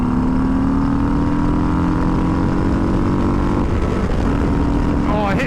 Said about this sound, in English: Alright, we're in sport mode. We're just going to get to a second gear pull.